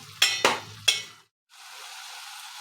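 Tomatoes with salt are stirred in a frying pan, with three sharp scraping strokes against the pan, a brief pause, then a steady frying hiss.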